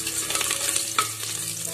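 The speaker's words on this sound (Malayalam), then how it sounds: "ഇതൊന്ന് ഫ്രൈ ആയി വരട്ടെ." Masoor dal ingredients fry in oil inside a pressure cooker, a close, crackling sizzle with stirring scrapes, one sharper clink near the middle, and no talk.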